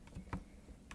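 Arrow keys tapped on a computer keyboard while a virtual camera is moved in a 3D scene, a few soft, separate clicks close by in an otherwise quiet room.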